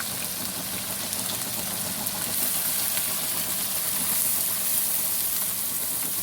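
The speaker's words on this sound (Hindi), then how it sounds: "अब हम इसको इसी मसाले के साथ फ्राई करेंगे।" Three medium onions, finely chopped, frying with masala in a pan, giving a steady, dense sizzle that builds a little partway through, heard close with no talking.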